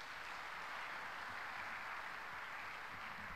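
Steady applause from a crowd honoring an organizing committee at a closing ceremony, a dense, even wash of clapping with no breaks, heard at moderate distance and fairly quiet.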